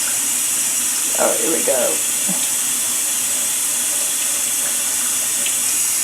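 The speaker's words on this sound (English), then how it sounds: "You want to wash your rice before you cook it." Steady hiss of tap water running into a kitchen sink while rice is washed, with a few soft splashes, and a voice briefly speaking over the constant flow.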